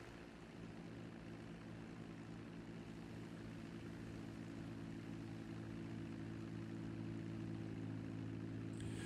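A steady seaplane propeller engine in the video game GTA V drones with a low, even hum and faint harmonic whine, continuous throughout and fairly distant, with no voices.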